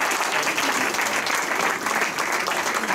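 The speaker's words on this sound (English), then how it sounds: "Let's give Jennifer a round of applause." Club members at a Hickory Rotary Club meeting break into steady applause, a dense, even patter of many hands clapping at close range, continuing without pause for a few seconds.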